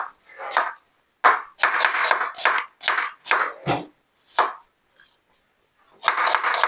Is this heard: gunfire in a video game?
no